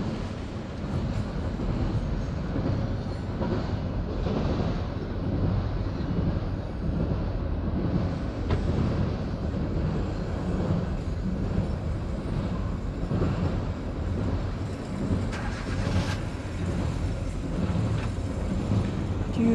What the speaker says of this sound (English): Look at that train, y'all.